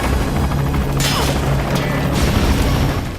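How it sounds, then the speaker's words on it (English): A hand grenade goes off in the Metal Gear Solid V video game, a loud, close blast with a sharp crack and heavy rumbling roar under constant helicopter-like droning. "we'll select a hand grenade and have Quiet help us out"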